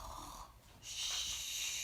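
A voice imitates a bear snoring in a cave on a cold, windy night: a short, breathy snore with a soft nasal rumble, then a louder, longer hissing exhale, close and clear with no other sounds.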